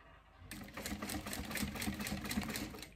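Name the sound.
sewing machine stitching a curve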